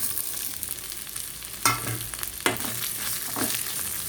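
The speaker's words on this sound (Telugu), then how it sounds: "అన్నీ బాగా ఫ్రై అయిపోయినాయి" Chunks of taro root fry in oil with onion, garlic and curry leaves, giving a steady close sizzle. A few sharp scrapes and clinks of stirring break through it.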